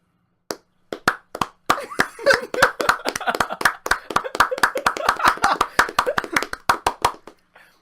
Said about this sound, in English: So we started a slow clap